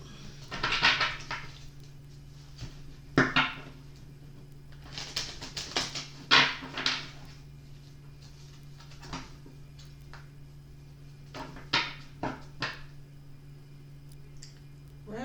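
Tarot cards are shuffled in irregular bursts of soft riffling and slapping, with quiet gaps between bursts under a low steady hum.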